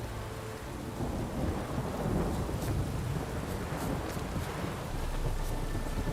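A thunderstorm rages in The Witcher 3, heavy rain hissing constantly while deep thunder rolls and swells underneath, with a few faint crackling peaks over the steady downpour.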